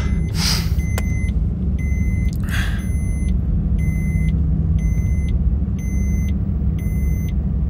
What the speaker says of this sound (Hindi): पहुँच चुका हूँ घर और ये हुई अपनी गाड़ी पार्क